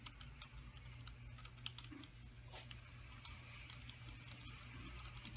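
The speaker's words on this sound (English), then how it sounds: "You're gonna start tapping F11." A Compaq Presario SR5605F desktop computer's keyboard gets repeated light taps on the F11 key, faint clicks over a steady low hum from the machine.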